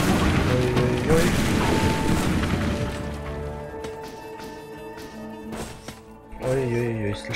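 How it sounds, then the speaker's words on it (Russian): Explosions in the mining video game SteamWorld Dig: a heavy booming crash at the start, then smaller thuds and game tones over the following seconds, with someone talking over the game sounds. "слишком много взрывов"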